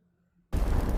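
A sudden explosion in a Star Wars film scene bursts in after near silence, a loud, dense blast that holds at full strength to the end of the short moment.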